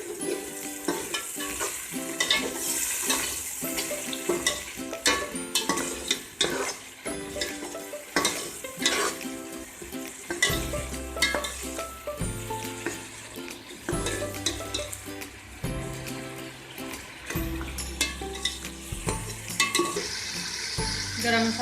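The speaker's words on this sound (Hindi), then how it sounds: "और ये गरम मसाले, ज़ीरा है, काली मिर्च, दालचीनी के 2-3 टुकड़े और तेज़पात, ये भी हम डाल देते हैं सारी चीज़ें।" Whole spices, cumin, black peppercorns, cinnamon pieces and bay leaves, sizzle and crackle in hot oil in a pan, close and steady, with stirring and pan clatter throughout.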